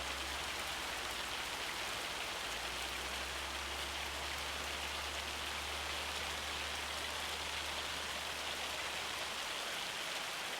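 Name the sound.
hail coming down in Farming Simulator 25 video game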